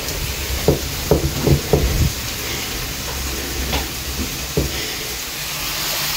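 Ginger garlic paste going into frying onions in a pan: a series of close spoon knocks and taps at the start, then a few more, over a constant loud sizzling hiss.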